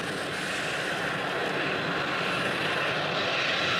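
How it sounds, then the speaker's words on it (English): Jet aircraft coming in to land near Heathrow produce a steady, loud, broadband engine roar that holds unbroken throughout, close overhead, with no talking. "Planes coming in at various heights."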